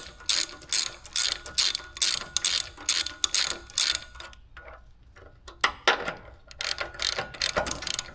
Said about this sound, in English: a socket and we'll tighten those down